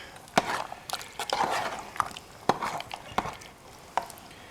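A spoon stirs American goulash with tomatoes and their juice in a metal canteen cup, giving a run of sharp scraping clacks and knocks against the cup walls at an uneven pace, fairly close.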